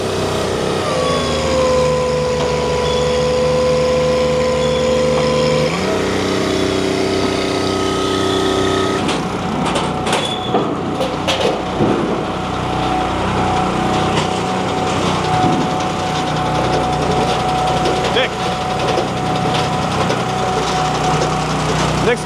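Engine-driven log lift and chain machinery run loudly and continuously at a Paul Bunyan Show, with a steady engine tone that shifts pitch partway through, then a clattering, rumbling mechanical roar.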